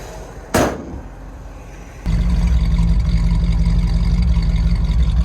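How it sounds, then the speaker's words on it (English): A 1970 Buick Riviera luxury muscle car's engine turns over after a short burst, then settles into a loud, steady, deep rumble that holds to the end. "Car does have a nice rumble to it"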